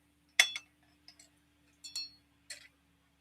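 A metal strainer set over a drinking glass gives several light, bright clinks in uneven clusters. Each clink is crisp and close, with near silence between them.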